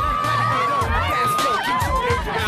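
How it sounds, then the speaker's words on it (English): A crowd of curious onlookers gathers on a busy Tokyo street, a dense continuous babble of many voices with shouts and whoops rising over steady street bustle. "it's a crowd"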